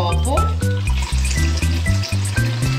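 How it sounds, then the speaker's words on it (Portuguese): Water is poured from a container around the outside of a glass during a kitchen-table experiment separating ink from water, a loud, close, continuous splashing and gurgling with a rising pitch as the vessel empties. "Então você vai despejar essa água aqui, tá?"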